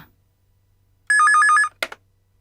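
Telephone ringing once in a Tamil television serial scene, a bright warbling electronic trill lasting about half a second after silence, followed by a brief click-like clatter as the call is answered.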